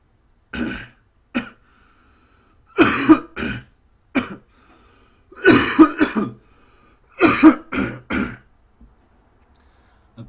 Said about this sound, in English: hence I'm coughing a lot